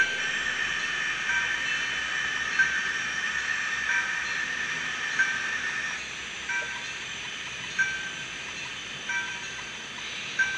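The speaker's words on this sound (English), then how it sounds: "Now we're going to start with a steam engine over here." A small model steam locomotive runs steadily along a track with a constant hiss and whine, a few faint clicks and taps breaking through; no one speaks.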